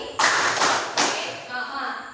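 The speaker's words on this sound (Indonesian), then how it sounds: "kita tepuk tangan aja" A class of students clapping hands together on the teacher's count, giving a few loud, close claps in quick succession, with voices mixed in.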